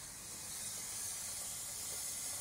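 A Dupray Neat steam cleaner hisses a continuous, steady jet of steam on carpet, loud and close with no talk.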